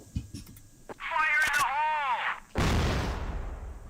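In the CrossFire video game, a grenade bursts with a loud, booming rumble that follows warbling electronic tones and scattered shots, with a commentator's voice nearby.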